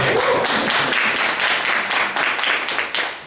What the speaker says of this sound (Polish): Brawa dla pana Wiesława Krzyśnika.